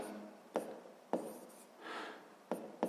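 Pen strokes scratch on paper while a math problem is worked out, short crisp taps and scrapes recurring at irregular intervals, close and fairly quiet, with no talking.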